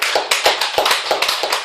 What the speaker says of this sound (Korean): 감사 박수 한번 해요.